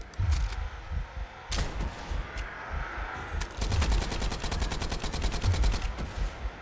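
Gunfire in a video game: a couple of sharp isolated shots early on, then a rapid automatic burst of evenly spaced rounds over a low background rumble, close and loud.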